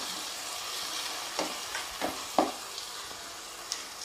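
Soy sauce goes into a pan of frying bread manchurian over low heat, giving a faint steady sizzle broken by a few soft stirring scrapes and taps.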